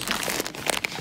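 Brief, close crinkling and crunching of a plastic marshmallow snack package being handled, a rapid irregular rustle lasting about a second.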